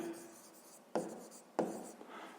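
A pen or pencil writes by hand on paper for a math exercise, making a soft scratching with two sharper strokes close up in a quiet room.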